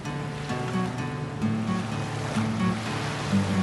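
Water surging and washing around a sinking boat, a steady wash of waves under low tonal swells, moderately loud and continuous with no voices.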